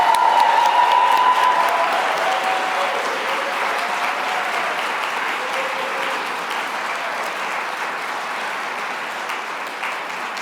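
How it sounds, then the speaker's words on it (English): Steady applause from a crowd at the 2025 Civic Leadership Academy welcome ceremony, a dense wash of many hands clapping that continues throughout and fades slightly toward the end. "So one more big round of applause for the 2025 cohort."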